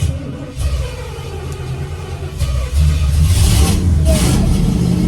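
A car with a carburetor fault runs loud and close, its engine sputtering unevenly at first and then revving harder in rough, rising bursts for the second half.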